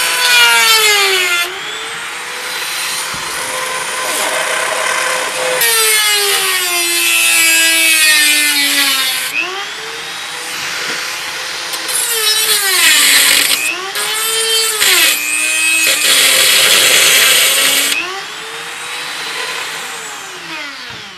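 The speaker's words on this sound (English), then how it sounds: "Okay, so let me get that Dremeled out first" A Dremel rotary tool cuts into a custom all-in-one computer build in a loud, close, continuous high whine whose pitch rises and sags as it bites and eases off, in repeated passes without talk.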